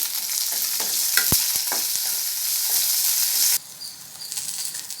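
Steady sizzling and frying of garlic and green chilies in a pan, with a few sharp clinks of a utensil stirring; the hiss drops off abruptly near the end.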